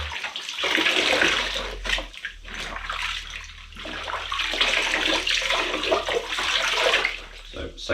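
Water pours and splashes steadily from a soaked car drying towel, a dense rushing wash with sloshing surges, close and fairly loud for the full eight seconds, with a low hum underneath.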